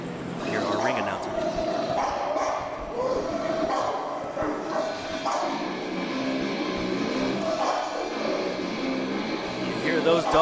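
Dogs bark and yip in the background at a boxing event, sounding faint and distant beneath steady crowd noise and announcer talk.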